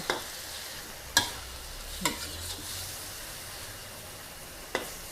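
Pork and egg stir-fried in a pan over medium heat, with a steady low sizzle broken by a few sharp scraping stirs of the spatula against the metal, no talking.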